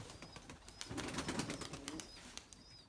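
White pigeons flying overhead, a rapid burst of wing flaps, fairly faint and distant, with faint high calls scattered through it.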